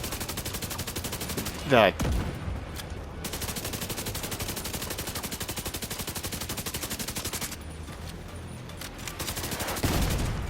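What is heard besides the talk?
enemy gunfire in the video game The Division 2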